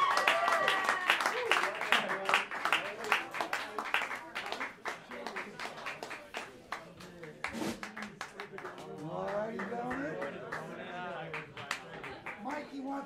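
An audience applauding a jazz trio's performance, dense clapping that gradually thins out, with voices talking and calling over it toward the end.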